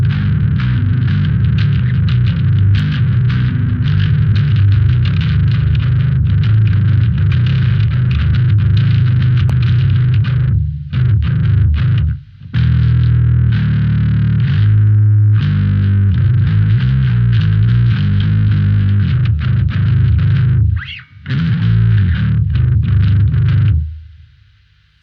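Bass guitar through the Neural DSP Darkglass plugin on default settings, a loud, gritty, distorted tone played continuously with a few brief stops, no talk.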